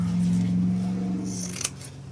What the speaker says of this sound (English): I'm going to take some scissors and we're going to cut this canvas up